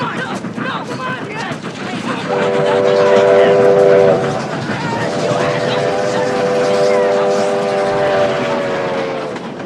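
A train approaches along the tracks with a low, rumbling roll, and its horn sounds in two long, loud, chord-like blasts over the steady clatter.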